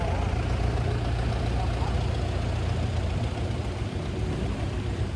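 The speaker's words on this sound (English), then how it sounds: "There's a car driving, or tractor going by." A steady low engine rumble from a car or tractor runs throughout, like a vehicle passing or idling nearby, with no clear rise or fade.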